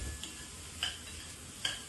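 Crushed garlic roasting with toor dal and green chillies in a pan, a soft steady sizzle with two brief scraping stirs, close and quiet, no voices.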